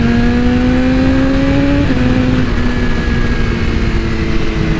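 BMW M1000RR superbike engine pulling hard under acceleration, a loud steady high-pitched wail that climbs in pitch, drops briefly at a gear change, then keeps howling with heavy wind noise.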